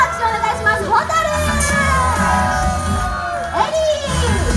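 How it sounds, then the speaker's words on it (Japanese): A live stage show audience cheers, whoops and yells continuously while a host speaks over the noisy crowd. "大きな拍手お願いします。"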